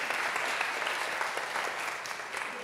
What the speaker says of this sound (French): Madame, on peut l'applaudir.